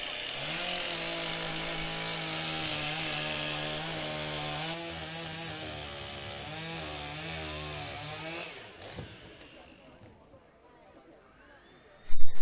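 Chainsaws fitted with Dazzle camouflage guide bars scream at full revs through wood in a timbersports race, loud and steady before dropping away, then a short loud burst at the end, with a commentator talking.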